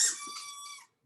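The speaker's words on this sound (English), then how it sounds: "my dog just stepped on a squeaky toy" A dog steps on a squeaky toy, giving a single short, high-pitched squeak that lasts under a second with no other sound around it.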